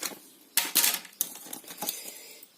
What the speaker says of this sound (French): on va couper pour obtenir